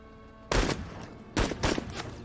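Gunfire in the video game Menace comes in two sharp, loud bursts of rapid shots separated by a short pause, with no talking.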